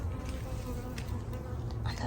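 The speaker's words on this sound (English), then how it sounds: "And a lot of bees. You hear the bees?" Bees buzz around blooming roses in a backyard garden, a faint but continuous hum close by, with a voice speaking quietly over it.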